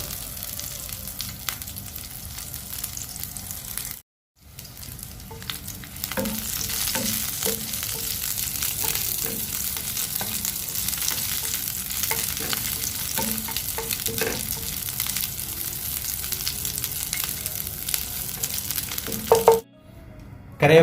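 Curry leaves sizzle and crackle steadily in hot coconut oil for a masala, a dense continuous frying hiss with occasional stirring clinks and one brief gap, with no talking.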